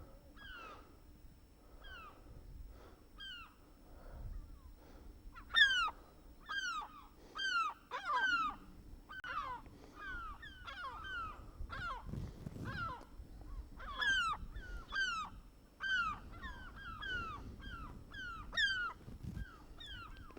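Many seabirds call from a coastal ledge jutting out to sea on Tresco in the Isles of Scilly, with repeated harsh, quavering cries coming in bursts over a faint outdoor background at a moderate distance.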